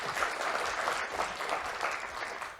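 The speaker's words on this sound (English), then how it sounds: "Let's start with a round of applause first before we go to questions." A conference audience applauds after a talk on a RISC-V processor model, steady sustained clapping from a hall full of people, moderately distant and even throughout.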